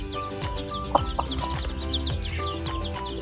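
Hens and chicks of fighting-cock stock cluck and peep steadily while scratching for food on sandy ground outdoors, with busy overlapping calls close by and no talking.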